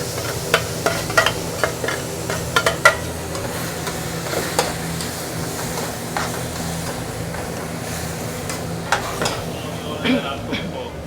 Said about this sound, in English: It isn't cooking, just sauteing everything going in one time, actually